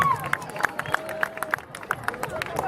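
A festival crowd in a town square in Paternò claps in a steady, fairly quick rhythm under a general hubbub, with each sharp clap standing out at even intervals.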